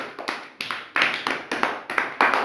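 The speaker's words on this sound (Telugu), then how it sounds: "క్లాప్స్ కొట్టండి వాడికి." Children clapping their hands together for a classmate in a classroom, several bursts of brisk, slightly uneven claps, close and fairly loud.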